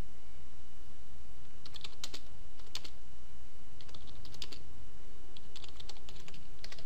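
Keys clatter on a computer keyboard in short bursts of quick taps separated by pauses, close and fairly crisp, with no talking.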